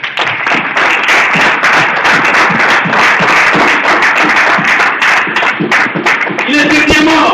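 A church congregation at an Easter celebration in Paris claps loudly and keeps it up, with cheering voices mixed into the rapid, dense applause.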